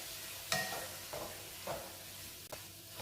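Okra being stirred in a pan over low heat for masala bhindi, with a few distinct scraping strokes at irregular intervals over a soft, steady background sizzle.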